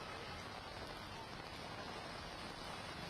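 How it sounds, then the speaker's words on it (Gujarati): Heavy rain pours down across Surat city during a thunderstorm, a steady dense hiss of falling water that stays even and continuous throughout, fairly faint and distant, with no voices. "સુરત શહેરમાં વિવિધ વિસ્તારોમાં ગાજવીજ સાથે ધોધમાર વરસાદ વરસી રહ્યો છે"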